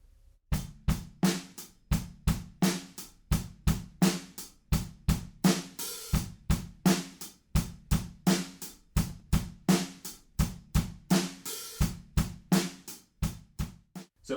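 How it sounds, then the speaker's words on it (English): A drum kit plays the verse beat of a song, a steady kick-kick-snare pattern of crisp, evenly spaced hits repeating for the whole stretch with no voices over it. "Kick, kick, snare, kick, kick, snare."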